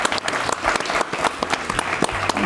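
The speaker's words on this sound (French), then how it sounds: "Applaudissez-moi" A small group claps in uneven bursts for a playful stunt in which someone let go of a rope, the applause fairly close and lively without voices.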